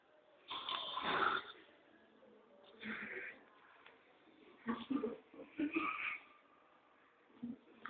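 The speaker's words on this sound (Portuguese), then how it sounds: "Pega esse ronco muito louco aqui." An old man snores indoors in several separate rasping breaths spaced a second or two apart, moderately loud and close, with quiet pauses between them.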